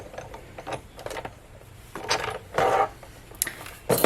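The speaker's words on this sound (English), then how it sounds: "So here is my Sizzix Big Shot. I'm going to take off the cutting plates." Cutting plates come off a Sizzix Big Shot die-cutting machine in a run of close, uneven clunks and clatters, with a couple of louder knocks near the end.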